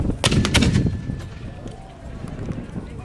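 Coehorn mortars fired by a section at a Gettysburg Civil War reenactment, heard as a couple of sharp booming reports close together outdoors, fading into ambient crowd noise.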